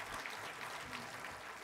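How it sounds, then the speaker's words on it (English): A round of applause from guests at a college presidents' breakfast, steady, fairly quiet and distant clapping that lasts only a moment. "let's give him a round of applause."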